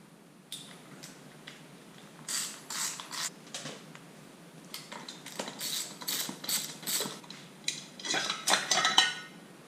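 Metal clicks and rattles of a wrench turning cover bolts on a 2015 Honda 50 motorcycle come in irregular bursts of close ratcheting taps, growing busier toward the end.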